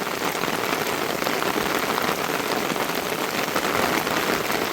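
Heavy downpour in rural Konkan, a dense, steady roar of rain drumming on surfaces, loud and unbroken throughout with no voices.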